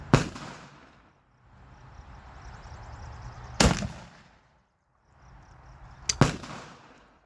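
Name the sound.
rifle shots with recoil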